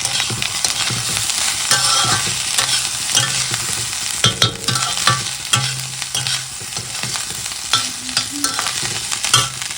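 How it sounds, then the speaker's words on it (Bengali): Rice stir-fried with potato, egg and onion in a pan, a steady close sizzle broken by frequent scraping stirs and clatters of the utensil throughout, with no voices. "ভাত ভাজা একটু আলু ডিম পেঁয়াজ দিয়ে অল্প একটু ভাত ভাজা করি"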